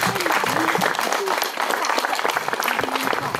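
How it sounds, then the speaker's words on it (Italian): An audience applauds at a book presentation in Terelle, Italy, a short burst of continuous clapping with a voice speaking over the top. "a cui facciamo un applauso per l'impegno"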